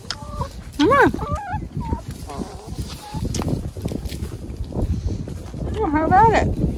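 Pet chickens in a backyard cluck and squawk while eating carrot, several rising calls in short bursts close by, with a person talking intermittently underneath.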